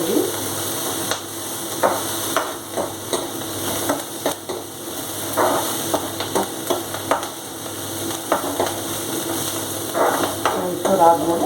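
Onions frying in a pan for a spicy vegetable palya, with steady sizzling and repeated stirring clicks throughout and voices speaking quietly in the background.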